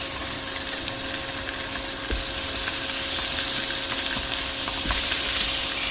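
Salted and peppered chicken thighs fry skin-side down in olive oil in a sauté pan, giving off a steady, close crackling sizzle with scattered sharp pops and no voices.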